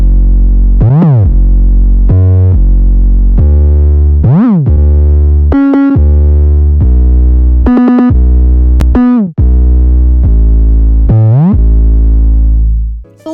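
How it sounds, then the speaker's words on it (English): Deep distorted 808 bass notes in a future trap beat made in FL Studio repeat in a rhythmic pattern, several gliding up and down in pitch between sustained booming tones, loud and continuous. "Make sure to get those 808 slides going a little something like this."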